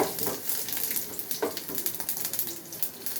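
Tempering seeds sizzle in hot oil in a kadai, a bright crackling hiss with rapid small pops throughout, close and steady with no voice.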